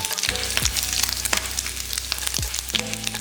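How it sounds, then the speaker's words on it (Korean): Garlic and bacon stir-fry in olive oil in a saucepan over medium-low heat, sizzling loudly and steadily up close, with a few scraping stirs and no talking. "마늘 넣고 볶아서 마늘이 색깔나기 시작하면 베이컨 넣고 볶아주고"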